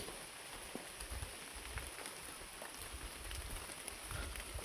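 Steady rain falling, a continuous hiss with scattered patters of drops, moderately distant and without talk.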